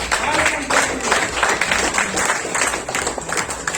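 An audience bursts into applause for a leader at a stage gathering, a dense sustained clatter of many hands with voices mixed in underneath.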